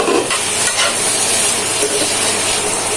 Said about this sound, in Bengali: এখন ভালোভাবে ভাজা করে নেব।